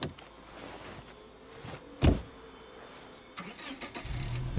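Car engine starting in the zombie survival game State of Decay 2, a sharp ignition burst, then a faint idle and a rising engine rumble toward the end.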